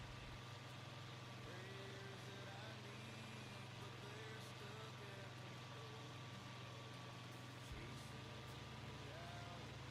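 A tractor engine in Farming Simulator 25, a small, older model pulling a big cultivator that is a bit much for it, holds a steady, loud, low droning run throughout, with a brief shift in tone near the end.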